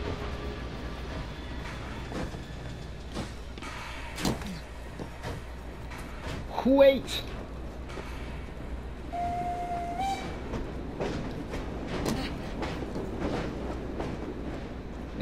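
A steam-era train in the Assassin's Creed Syndicate video game rumbles and clatters nearby, with a short whistle or horn blast midway and a steady rolling drone throughout, while a player briefly calls out.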